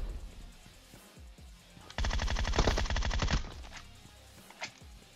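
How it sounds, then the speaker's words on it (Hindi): A Groza assault rifle fires in PUBG Mobile, one loud rapid burst of automatic gunfire lasting about a second and a half, close and dominant, with quieter game ambience before and after. "और ये ग्रोजा जैसी गन चलाने में यार अलग ही टाइप का मजा है"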